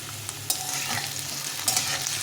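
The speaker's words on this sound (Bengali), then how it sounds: "এইভাবে আমি প্রথমে আলুটাকে ভেজে নেবো" Potatoes fry in a pan, a dense close sizzle with quick scraping stirs and small clinks through a brief stretch, no speech.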